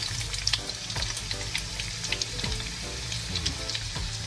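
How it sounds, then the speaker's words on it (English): Garlic sizzles in hot oil in a pot, a steady crackling fry dotted with small pops and spatters, close by and with no talking. "We're gonna put garlic first, that flavors the oil and everything else like this."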